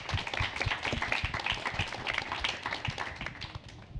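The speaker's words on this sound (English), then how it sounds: "A huge round of applause." An audience applauds after a media business panel, with dense, steady clapping from many hands, moderately distant and tapering slightly toward the end.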